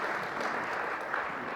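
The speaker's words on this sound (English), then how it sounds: "Big applause for them." Brief, fairly faint applause from an audience at a startup pitch competition finale, a soft continuous rustle of clapping without any voices.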